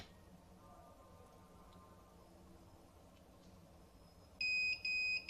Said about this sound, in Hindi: लेकिन ये मुसलसल बीप कर रहा है।